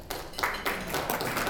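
Scattered audience clapping at a community forum on race and racism in St. Petersburg, several bursts of hands clapping that swell and fade in short waves over a brief moment.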